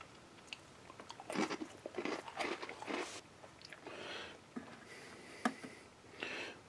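Close, crisp crunching as a seven-year-old wheat snack bread from a 2012 US MRE is bitten and chewed in irregular bursts, with brief pauses between chews.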